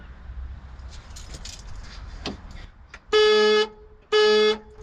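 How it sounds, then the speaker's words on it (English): Ford Falcon ute horn sounding in two loud, steady blasts close by, each about half a second long, after faint background noise and a small click. "I can hear it clicking every time it puts the horn on."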